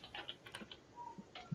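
Quiet, irregular keystrokes tapped on a computer keyboard, a handful of light clicks spaced unevenly over a second and a half, faint and close with no talk.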